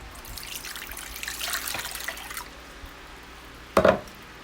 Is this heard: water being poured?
yes